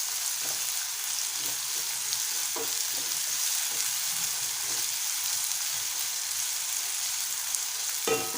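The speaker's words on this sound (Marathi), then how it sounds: "आणि 2 मिनिटं परतवून घेऊया" Boiled potatoes and tomato sauté in a hot pan with a loud, continuous sizzle, broken by occasional stirring clinks and scrapes and one sharper knock near the end.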